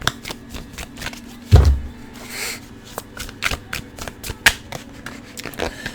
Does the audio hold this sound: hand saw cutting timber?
no